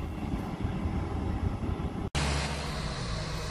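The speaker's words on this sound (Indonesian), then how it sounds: "pesawat sudah mendarat dengan mulus di Bandara Hang Nadim di Batam" A Super Air Jet passenger airplane rolls along after landing at Hang Nadim airport in Batam, a loud continuous engine roar with a brief dropout before the steady rumble resumes.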